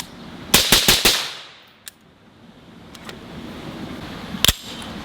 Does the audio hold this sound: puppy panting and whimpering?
no